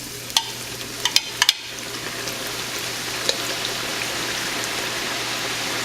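Tortilla strips dropped into hot oil for chicken tortilla soup, a steady soft sizzle with a few sharp crackles and pops near the start, close by and without talk.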